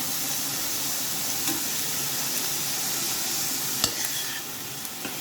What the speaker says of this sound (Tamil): நல்லா வதக்கிட்டு அந்த வெங்காயம் கண்ணாடி மாதிரி ஆக்கணும்.